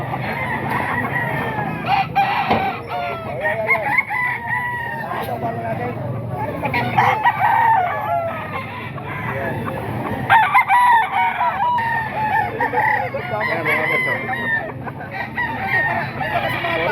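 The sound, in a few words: chickens and roosters crowing and clucking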